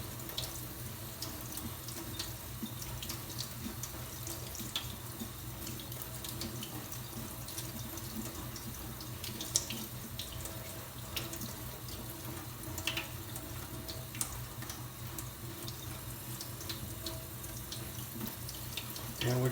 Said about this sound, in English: we're just going to wash the particles through each screen